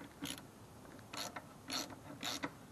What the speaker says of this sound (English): see if any of these bolts will break free